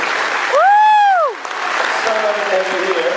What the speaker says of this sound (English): Give you a huge round of applause.